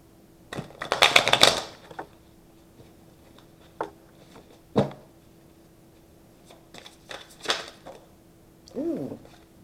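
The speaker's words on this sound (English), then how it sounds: "Again, let me shuffle the cards." A deck of tarot cards is shuffled in a quick riffling burst, followed by scattered taps and soft card handling, close and fairly quiet.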